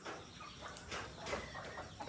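Bulik Texas chickens clucking close by, a rooster among the flock, with a steady mix of soft clucks and rustling over a constant outdoor background.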